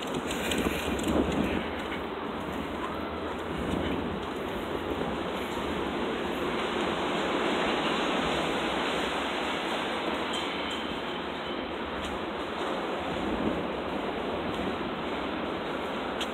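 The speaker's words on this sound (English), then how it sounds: "I figured I'd show you the wind again, the effect of the wind on the trees here." Strong wind roars through trees in Mineola as a continuous, dense whoosh with slow swells and gusts, close and loud, with some buffeting against the microphone.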